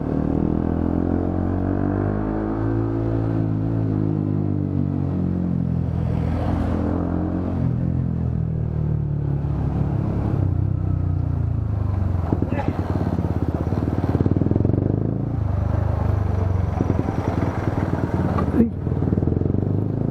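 A motorcycle fitted with an Akrapovic exhaust idles and revs nearby, a deep rumbling drone rising and falling in pitch, with someone talking over it for much of the clip.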